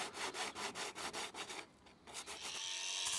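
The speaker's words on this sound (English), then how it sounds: "sand the surface using 40 grit sandpaper" Hand sanding a roof laminate corner with 40 grit sandpaper, in a quick, even run of faint scraping strokes, a short pause, then rougher continuous rubbing.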